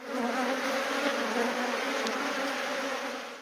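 Bees, both stinging and stingless kinds kept for crop pollination, buzz in a dense, continuous swarm hum that holds steady and fairly close throughout, with no talk.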